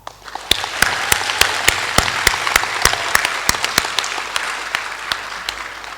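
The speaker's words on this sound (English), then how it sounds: "please join me in giving a big round of applause to our graduating class" An audience applauds the graduating class at a school graduation ceremony in Shenzhen. Many hands clap in a steady wash, with a few sharp claps standing out close by, sustained for several seconds.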